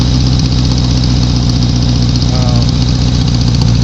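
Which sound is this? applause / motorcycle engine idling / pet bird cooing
motorcycle engine idling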